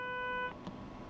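SIFA acknowledgement tone in Train Sim World 5, a steady multi-tone electronic beep held for about half a second that cuts off cleanly, followed by a faint soft click in a quiet cab.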